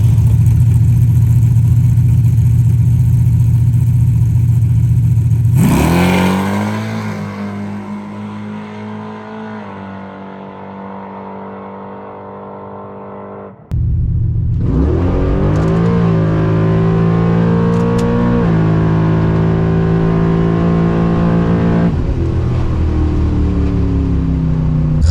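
A nitrous-tuned race car engine idling loudly, revving up, dropping back, cutting out briefly, then restarting into a rough, lopey idle with repeated throttle blips; no talking.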